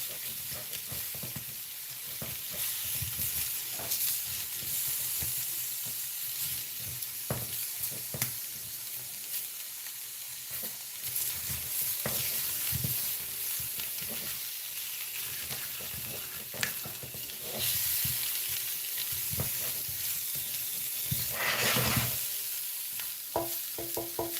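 Ramen noodles fry in a pan with vegan butter, giving a constant sizzle broken by scraping, stirring and pressing against the pan, close up and fairly quiet, with no talking.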